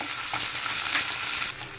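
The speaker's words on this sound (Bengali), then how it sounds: "রসুনের মধ্যে আমি তেল দিয়ে ভাজতেছি" Garlic frying in oil in a pan, a steady close broadband sizzle with a few faint stirring scrapes, the hiss dropping slightly near the end.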